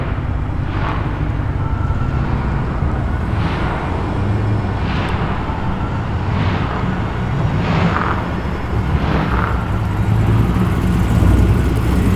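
A white Holden Commodore SS with a V8 rumbles steadily at a muscle car meet, a low, continuous burble that swells slightly toward the end, with no talk over it.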